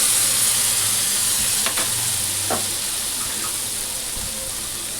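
Pav bhaji vegetables sizzle loudly in butter in a hot pan, with a steady bright hiss and occasional scraping stirs and clinks.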